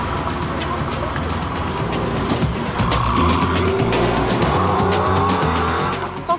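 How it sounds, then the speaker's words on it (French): A luxury coupé drives along, its engine rumble and tyre noise running loud and continuous while people talk over it. "quand il se déplace, c'est en coupé de luxe"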